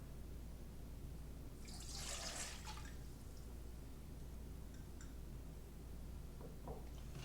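Two cups of water being poured for a chicken brine, a short splashing pour lasting about a second, followed by faint drips against a steady low background hum.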